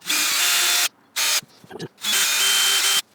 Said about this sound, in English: I'll pre-drill some holes.